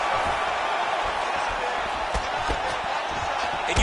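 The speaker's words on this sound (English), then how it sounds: "you hear the crowd react every time they come together" Crowd at a combat sports fight roaring steadily as heavy strikes land on both sides, a dense, continuous wall of noise with a few sharper bursts, loud and close throughout.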